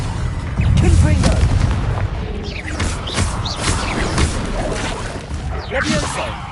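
A Confringo blasting curse explodes in the Hogwarts Legacy video game, with booming blasts and crashing impacts scattered over several seconds, mixed with game effects and a voice speaking.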